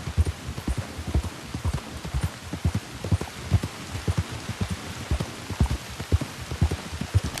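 Heavy rain hisses steadily throughout in Red Dead Redemption 2 while rhythmic hoof clops of a ridden horse beat along underneath, close and regular.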